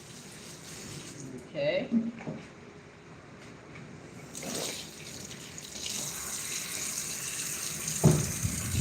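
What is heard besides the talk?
hand washing under running kitchen tap water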